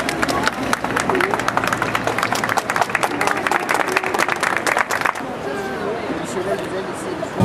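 A crowd at a CHP party candidacy announcement claps loudly and densely for about five seconds, then the applause thins into a quieter murmur.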